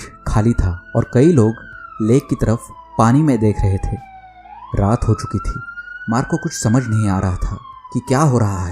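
A wailing siren rises and falls steadily in the background through the whole stretch, beneath continuous close narration by a voice.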